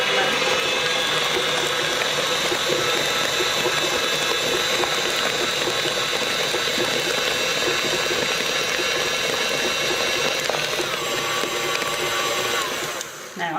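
Stand mixer with a paddle beating wet carrot cake batter, a dense steady whirring and churning that runs unbroken for several seconds before cutting off near the end.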